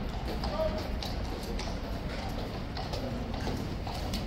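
A King's Guard soldier stamps his boots on the ground outside, heard as a few sharp, distant thuds within steady, busy outdoor crowd noise and chatter.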